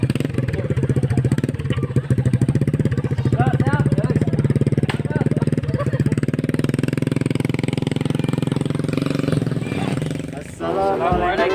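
Motorcycle engine idling and revving close by in a village setting, a loud, steady rattling drone that lasts nearly the whole stretch and fades out near the end, with faint voices under it.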